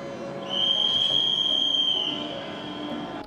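The Saraighat Express pulls out of Howrah station, a steady high wheel squeal or whistle tone sustained for a couple of seconds over a low rolling rumble of the train, moderately loud and close.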